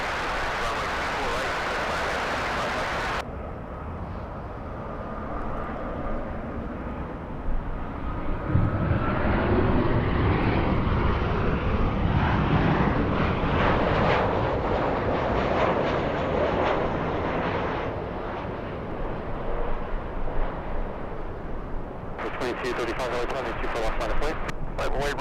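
An airplane on approach to land on runway 24 right at Los Angeles airport gives a rising, then fading jet roar heard from a distance, with radio chatter briefly at the start and end.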